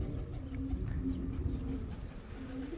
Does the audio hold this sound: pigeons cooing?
yes